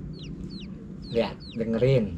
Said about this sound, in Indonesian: itu suara anak ayam, piak gitu, ya kan?